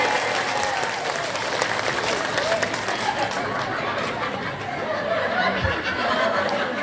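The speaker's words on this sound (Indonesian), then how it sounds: "Tepuk tangan dulu dong buat panitianya" Lively applause from the audience at an Islamic religious gathering, mixed with chuckles and scattered chatter, holding steady for several seconds.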